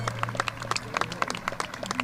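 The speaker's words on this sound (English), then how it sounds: "let's give them a round of applause" A high school commencement crowd claps in a brief burst, individual claps distinct and moderately loud over a steady low hum, with no voices.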